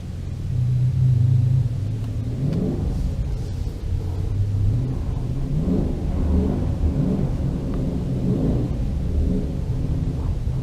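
Dodge Challenger doing donuts in the snow, its engine rumbling low and revving in repeated rising sweeps, close and continuous.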